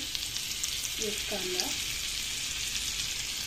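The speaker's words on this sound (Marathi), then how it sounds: "एक कांदा छान परतून घेऊ।" Onion frying in butter and a little oil in a pan gives a steady, close, even sizzle throughout, with a brief murmur of voice near the middle.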